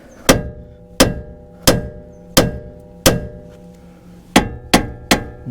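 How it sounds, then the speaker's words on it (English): Eight sharp metallic hammer strikes on a 2018 Hyundai Elantra tie rod end, ringing out at a steady, even pace, close and loud with brief ringing decay after each blow. "I'm going to take this little hammer and I'm going to smack right here."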